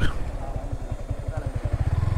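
A motorcycle engine idles and chugs close by with a low, steady pulsing thump that speeds up slightly toward the end, as the bike is brought to a stop at a busy iftar gathering.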